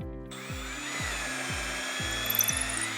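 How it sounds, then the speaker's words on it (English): A power drill whirs steadily as it bores into a wooden door, with its pitch dipping and recovering in repeated cycles under load. "all I need to do is drill into the door and get it started."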